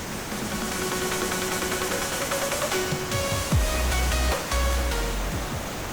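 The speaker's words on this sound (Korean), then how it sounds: "시원한 물소리가 이번 산행의 수고를 깔끔하게 씻어주는 느낌이네요." Steady, close rushing of a stream under a deck bridge at Chungnyeongsan Recreational Forest, continuous and fairly loud with no voices.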